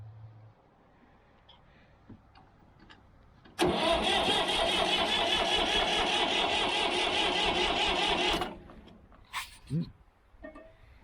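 A Massey Ferguson 50 diesel tractor engine cranks and bursts into a loud, rough roar after a quiet stretch, runs for about five seconds, then cuts off abruptly, leaving a few faint knocks.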